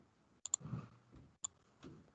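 Computer mouse buttons click quietly nearby: a quick double click, then a single click and a softer fourth click, crisp and isolated against a near-silent room.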